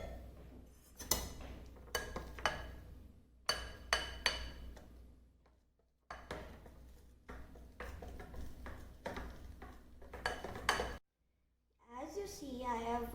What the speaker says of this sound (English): And stir it.